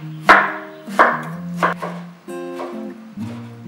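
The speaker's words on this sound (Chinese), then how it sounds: "切碎。" Tomato being chopped by hand, four distinct knife strikes on a board at an uneven pace, each a sharp close thud, with quiet pitched tones ringing underneath.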